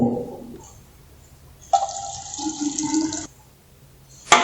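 Water poured into a cement sample during a lab setting-time test, a brief splashing pour in the middle, clear and close, with no talk.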